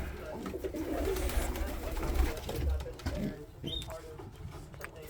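Racing pigeons in a loft give soft, low coos alongside shuffling and the patter of wings and feet, close and fairly quiet throughout.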